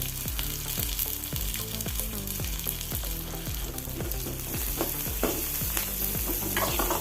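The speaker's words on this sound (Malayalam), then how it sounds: "ഒരു ബ്രൗൺ കളറാകുന്നവരെ ഇളക്കി കൊടുക്കണം" Onions, curry leaves and green chillies fry in a pan for wheat dosa, with a steady loud sizzle and repeated rhythmic scrapes of a spoon stirring throughout.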